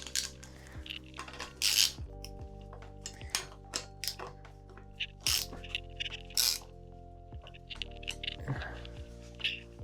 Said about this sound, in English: I'm going to install the crankset